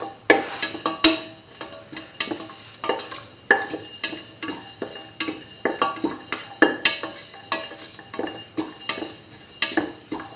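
A spoon stirs and mixes a curried egg and mung bean stew in a pot, giving repeated scraping clinks and knocks against the metal at an uneven rhythm, close and moderately loud, with a faint sizzle underneath.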